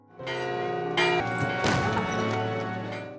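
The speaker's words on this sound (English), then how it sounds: "the town's warning bell suddenly rings out wildly" A town's warning bell rings wildly in a dense, loud clamor, with repeated metallic strikes and clashing overtones layered over a heavy, chaotic background.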